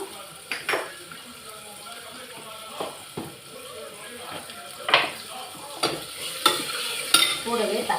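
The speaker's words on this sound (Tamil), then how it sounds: "நல்லா வதங்கட்டும்." Onions with turmeric sauté in a pan for a South Indian home lunch, giving a soft continuous sizzle and repeated scrapes and clinks of a spoon stirring against the metal pan, with speech in the background.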